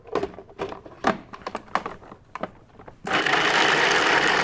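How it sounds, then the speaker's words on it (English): Food processor pureeing pistachio pesto with cheese, cream and olive oil: a few seconds of clattering handling and bumps, then the motor kicks in with a loud, steady whirring blend. "Let's see what happens when we puree it all up."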